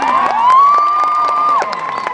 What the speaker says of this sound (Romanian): un aplauze pentru echipa mea